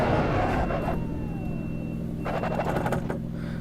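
A BMW M3 E30 engine in the racing game Assetto Corsa drones and winds down as the car slows, its pitch falling steadily, with a brief flurry of higher noise near the end.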